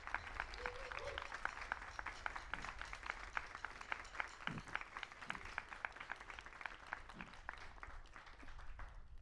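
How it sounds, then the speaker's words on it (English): A concert audience at Nottingham Castle applauds a technical team from the University of Nottingham Lakeside Arts during a youth orchestra event, with steady, crisp clapping from a moderate-sized crowd that is faint overall. "Can we give them a clap, guys?"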